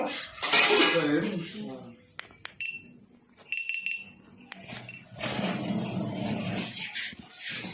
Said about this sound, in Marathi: कुकर काढणार काय